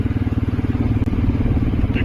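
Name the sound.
motorcycle riding in rainy weather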